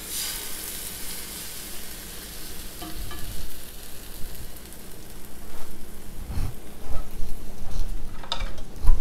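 Rava dosa batter hisses and sizzles steadily on a hot tawa, a close, continuous crackling frying sound with small pops that grows slightly louder toward the end.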